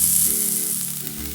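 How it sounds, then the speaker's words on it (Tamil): Grated coconut dry-roasting in a pan without oil for a chicken kulambu masala gives a steady, close hiss with a faint crackle throughout, with no talking. "இதுவும் எண்ணெய் விடாமல் ஜஸ்ட் ட்ரை ரோஸ்ட் பண்ணிக்கணும்."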